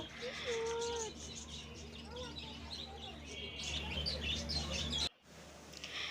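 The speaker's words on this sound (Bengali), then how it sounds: "আর এখানে কিছু পাখি পাখিগুলো অনেকগুলো পাখি ছিল তো দেখছিলাম" Birds chirp and call in a park, several overlapping songs and tweets with a few soft coos, moderately near over steady outdoor background hum, ending with a brief cut.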